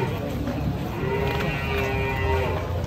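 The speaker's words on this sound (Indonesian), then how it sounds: "Mas, sapi." Contest-class cattle moo while being unloaded from a truck, a long low bellow rising over a noisy, busy crowd with people talking nearby.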